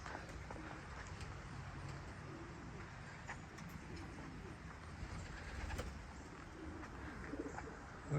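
Racing pigeons at their loft coo softly and faintly over a steady low background hum, with occasional small clicks and rustles.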